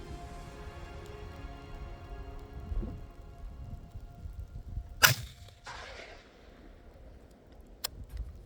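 Heavy rain pours down on public land in Tasmania during rifle sighting-in, a continuous hiss of falling drops broken by a sharp gunshot crack and a later click.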